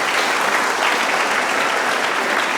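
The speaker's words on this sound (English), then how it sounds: "can we give these volunteer parents a round of applause?" Loud, dense applause from a concert audience at a winter school orchestra concert, honoring volunteer parents; a continuous wash of many hands clapping with no pauses or voices standing out.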